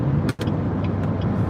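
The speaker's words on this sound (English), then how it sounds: "It's a lot of traffic, but they're moving fast." Heavy road traffic rushes past a car's interior, a constant loud broadband roar of tyres and engines with brief swells from passing vehicles and a short dip in the noise early on.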